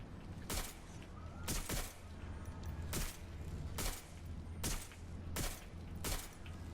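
Gunfire in the video game Watch Dogs: a series of six evenly spaced sharp shots, each a broad bang with a short decay, over a steady low background hum.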